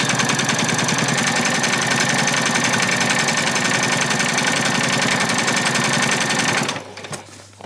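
Sewing machine stitching a spring apron, running steadily and loudly with a fast mechanical chatter for almost seven seconds before stopping abruptly, with no talk over it.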